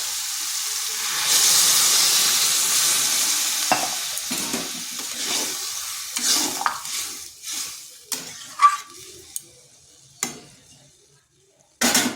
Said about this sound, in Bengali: এরপর দিয়ে দিচ্ছি জল।